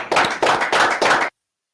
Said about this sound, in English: do you know why we are clapping?